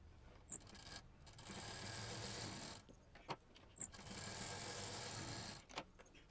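A sewing machine stitches a zip onto a 6 by 20 inch fabric piece, running in two sustained bursts of several seconds each, separated by brief pauses with a few small clicks and handling knocks.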